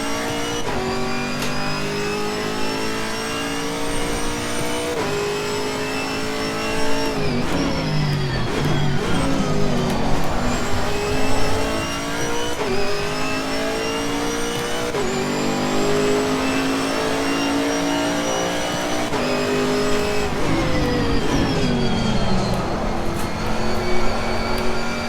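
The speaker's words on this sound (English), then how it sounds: "Just that engine cutting from the traction control." Chevrolet Camaro GT4 race car in Assetto Corsa Competizione at Bathurst, its engine revving steadily under load with harmonic tones rising and falling, briefly cutting and stuttering as traction control intervenes, loud and continuous without talk.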